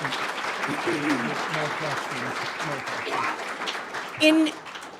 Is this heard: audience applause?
yes